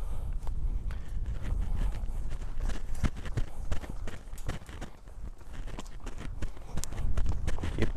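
A young filly walks under a rider during her second ride, her hooves sounding as a steady, close clip-clop over continuous rustling movement, with no voices.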